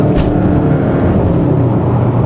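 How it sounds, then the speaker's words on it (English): A 2023 Hyundai Sonata N Line with an 8-speed dual-clutch transmission accelerates hard, its engine a loud, steady, close roar throughout, with no voices. "you can hear this transmission shifting, so no complaints about this 8-speed dual clutch transmission"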